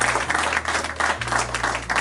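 Applause from an audience at a press conference for a Montreal African film festival, a steady wash of many hands clapping throughout, moderately loud with no voices over it.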